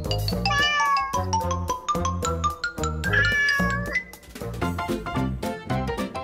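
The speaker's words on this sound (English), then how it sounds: "Hey, a cat!" A single cat meows repeatedly in quick succession, loud and close, with drawn-out, wailing calls and no voices over it.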